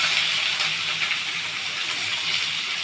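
Sliced onions hiss in hot mustard oil in a kadai, a dense, even sizzle with small crackles throughout, close-up and steady, with no voices.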